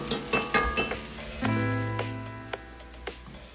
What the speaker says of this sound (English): And right here I'm going in with some minced garlic.